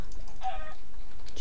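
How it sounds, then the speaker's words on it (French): Chickens cluck in a Minecraft world, one short burst of clucking near the middle over a quiet game backdrop, soft and close. "on prend les poulets, non?"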